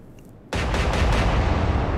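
Naval guns in the Atlantic Fleet game open fire abruptly after a quiet moment, breaking into a loud sustained roar of overlapping blasts.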